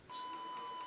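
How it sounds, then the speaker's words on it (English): Steady electronic beeping from a ghost-hunting trigger device, a faint, even, repeating tone in a quiet room. "that beeping should stop"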